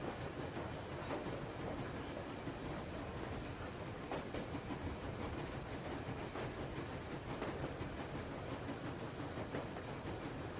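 A train rolls steadily in the Metro Exodus video game, a continuous low rumble with faint rhythmic clickety-clack of wheels and rattling cars, fairly quiet and heard alone.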